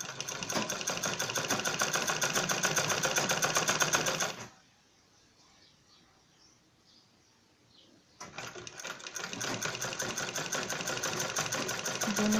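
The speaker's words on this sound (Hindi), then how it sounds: "बीच से सिलाई लगानी है ताकि सिलाई का ये पता रहे कि कहाँ से कहाँ तक चलानी है" A domestic sewing machine stitches fur cloth for a zippered bag at home, a fast, steady mechanical whir for about four seconds, stopping briefly, then running again at the same rapid pace.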